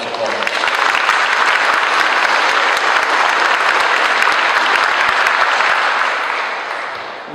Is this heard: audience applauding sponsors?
yes